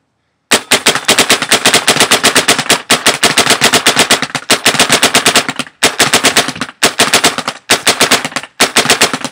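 Planet Eclipse Etha paintball marker with a rotor loader and nitro tank firing in ramping mode, loud rapid strings of shots in several bursts separated by short pauses, no talking.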